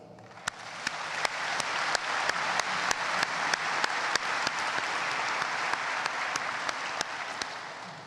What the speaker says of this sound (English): I invite our graduates and guests to join me in applauding my faculty colleagues and their leader